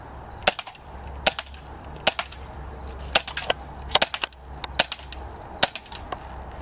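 KWC Smith and Wesson M&P 40 air pistol firing at a metal tin and bottle outdoors, about a dozen sharp cracks spaced roughly every half second to second, loud and close with no talk.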